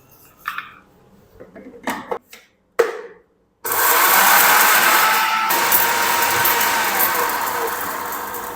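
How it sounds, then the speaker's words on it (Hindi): An electric grinder jar coarsely grinds roasted spices, a loud, steady whirring roar that starts abruptly after a few short knocks and handling sounds and runs continuously to the end. "चलिए इसको ना मैं दरदरा सा पीस लूँ, यानी इसको ग्राइंड कर लूँ।"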